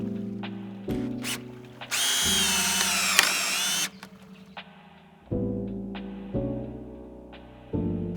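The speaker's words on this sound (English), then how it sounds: "Swap the drill bit out for the driver and put 2 more screws in." Power drill driving deck screws into boards on a deck build, several separate bursts of whirring motor, each winding up and stopping, with a longer high-pitched run in the middle; close and loud, no talking.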